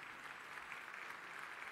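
Concert audience at an Aşık Veysel memorial evening applauding, a steady even wash of clapping throughout, fairly faint and distant with no voices over it.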